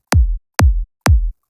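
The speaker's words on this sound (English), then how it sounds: "So for the punch layer, it sounds like this" Big room punch-layer kick sample called Kick Salvation, struck three times in an even rhythm, each a loud, short, punchy hit with a sharp click and a brief low body, alone with no voice.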